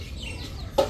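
A single short duck quack sounds near the end over a steady, low outdoor background hum.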